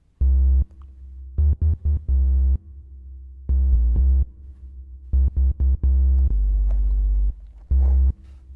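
A soloed synth bass line from a KORG Electribe Wave plays short, punchy, tonal notes in a choppy rhythmic pattern with brief gaps, alone and fairly loud with no talk.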